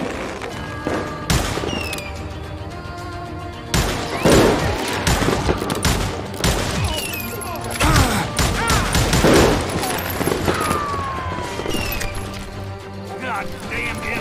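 Rapid gunfire in a first-person open-world shooter crackles as dense fusillades and sharp shot bursts in clusters, loud and close, over continuous game noise and music, with voices shouting during the fight.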